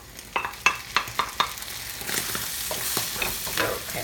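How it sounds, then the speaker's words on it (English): Tomatoes stir fry in a hot pan for Chinese tomato and egg, with several sharp spatula scrapes and clacks at first, then a broader continuous sizzle, close and fairly loud with no voices. "Stir them. That's how we call it stir fry."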